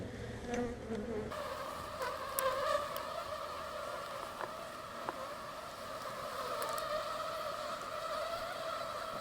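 Honey bees hum steadily around an open hive during installation of a nucleus colony, a sustained close buzz with occasional brief clicks and knocks from handling of frames.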